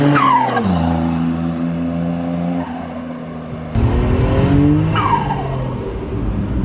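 A truck engine idles and revs loudly and close by in cold weather, its deep harmonic drone rising and falling through several throttle blips, with no talk over it.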